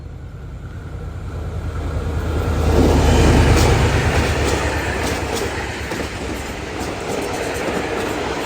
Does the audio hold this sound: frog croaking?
no